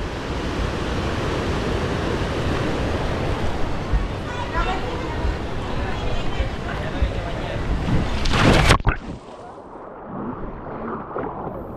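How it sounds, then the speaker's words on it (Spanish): Sea waves breaking on a rocky shore in El Salvador, a broad steady roar with wind buffeting the microphone, ending in a louder surge before dropping quieter. "Y aquí está el mar."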